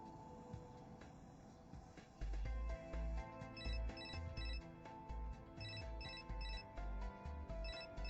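An outgoing call's ringing tone comes through a telephone as a series of regular electronic pulses that repeat in an even rhythm, fairly clear over a quiet room backdrop with soft low thumps and no speech.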